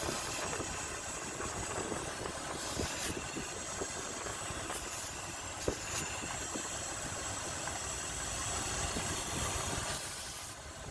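A car engine runs with a steady hiss and rumble, punctuated by a few brief sharp bursts of starter fluid sprayed at an intake air leak, the idle rising slightly.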